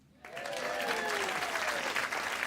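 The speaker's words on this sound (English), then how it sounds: "You can applaud yourselves, though, for coming." An audience at a live radio music event at the Edinburgh festivals breaks into applause after a brief quiet moment, with clapping rising quickly and holding steady and dense until the end.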